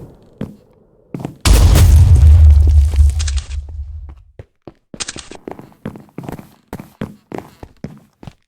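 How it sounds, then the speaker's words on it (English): A loud grenade blast in the Minecraft server mode Minestrike booms out suddenly, with a rumbling tail lasting a couple of seconds. After it, a run of sharp footsteps and clicks follows. "Grenade!"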